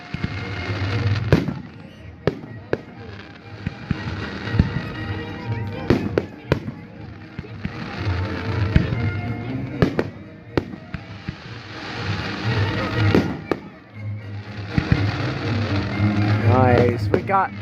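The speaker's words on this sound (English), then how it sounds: "We got some cool fireworks here." Fireworks burst at Morningside park in sharp, scattered bangs and crackles, some near and loud, others distant, while people talk and exclaim throughout and music plays faintly in the background.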